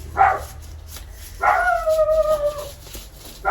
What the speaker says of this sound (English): She barks at butterflies